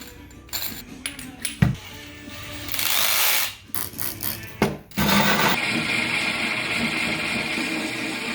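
A diamond bit drills through a tempered glass aquarium panel with a 1 3/4 inch hole cutter, giving a steady grinding whine after scattered clicks and knocks, then a sustained high-pitched drilling hum that runs alone to the end.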